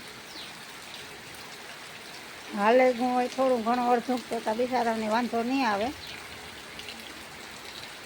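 Rain falls with a steady, soft hiss in the background while a person talks for a few seconds over it.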